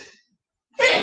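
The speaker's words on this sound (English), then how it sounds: "The morning sneezes have arrived." A single sharp sneeze bursts out near the end, loud and close, after a faint breathy intake and a short silence.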